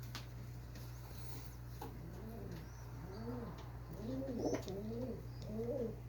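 Young pigeons, all four months old or younger, settling in a bird loft near dusk, giving soft repeated cooing calls that grow a little louder, over a steady low hum with occasional faint chirps.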